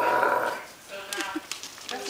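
A person mimics a puppy barking, giving a few short, yappy vocal barks after some nearby talk, fairly close and moderately loud.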